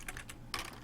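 A few soft, quick keystrokes on a computer keyboard while programming in C++, faint and close with no talking.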